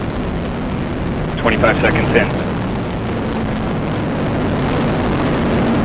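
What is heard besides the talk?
Atlas V rocket engine roar during launch broadcast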